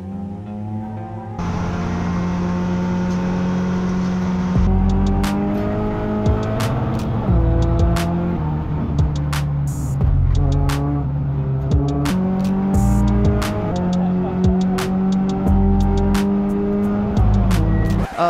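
Onboard a Peugeot 208 Racing Cup car lapping a race track with a passenger aboard, its engine loud and close, revving up through the gears with sharp shift breaks and rising tones as it accelerates out of corners.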